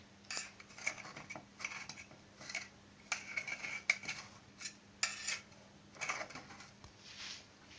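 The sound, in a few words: cutting brownie from the sides with a knife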